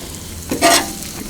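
Sausage and eggs frying on a Blackstone griddle for breakfast tacos, with a brief swell of sizzling and scraping as food is stirred on the hot flat-top, standing out against a low steady background hiss.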